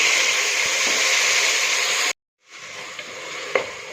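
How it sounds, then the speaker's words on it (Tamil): Tomatoes sautéing in a pan for tomato fried rice, a loud steady sizzle that cuts off abruptly, then resumes more softly with a couple of sharp clicks from stirring. "தக்காளியை சேர்த்து நல்லா வதக்கலாம்"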